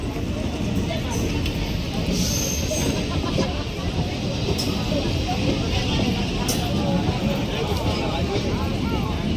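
A train at Gogamedi railway station platform, its steady loud rumble and rolling wheel noise filling the whole stretch without a break, with a voice speaking over it.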